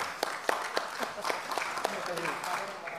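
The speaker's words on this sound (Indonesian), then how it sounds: "Tepuk tangan lagi dong." Sparse applause in an Indonesian parliamentary commission hearing room, scattered individual claps standing out as distinct sharp hits at a moderate distance, fairly quiet and thinning out, with some speech in the background.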